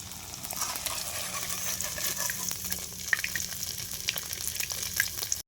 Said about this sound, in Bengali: এবারে আমরা এক এক করে মাশরুমগুলা এইভাবে ভেজে নেব।